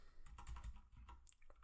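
Fast, uneven clatter of keystrokes on a computer keyboard, close and fairly quiet, in bursts over roughly two seconds with a faint background hum and no talk.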